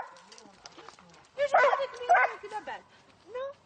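Dogs bark and yip in short bursts at close range around a house, with a few whimpers between barks and people talking over them.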